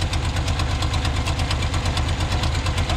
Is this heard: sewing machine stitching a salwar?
no